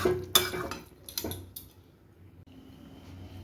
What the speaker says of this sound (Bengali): আমি এটা সার্ভিং বলে ঢেলে নেব